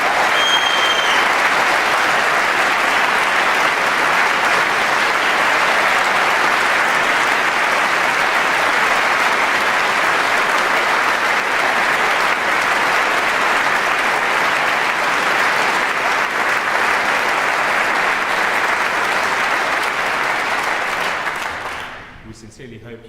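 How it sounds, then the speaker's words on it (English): A large audience at a university graduation ceremony for undergraduates gives a long, dense round of applause that holds steady for over twenty seconds before dying away at the end. "can I just ask that we give another large round of applause to all of our students"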